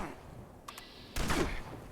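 Enemy gunfire in the Fallout 76 video game: a brief burst of shots rings out partway through, preceded by a couple of short metallic clicks, mid-distance and fairly loud against a quiet background.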